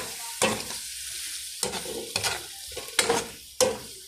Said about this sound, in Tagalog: kumulo na po yung ginisa natin balon-balonan. Haluin lang po natin mga kaguro.